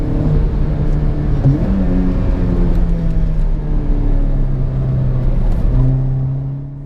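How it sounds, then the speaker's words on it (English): A Toyota Corolla TS driven on a race track, its engine droning loud and steady with shifting pitch as it accelerates and eases, heard from inside the car. "just me seeing how the car is handling"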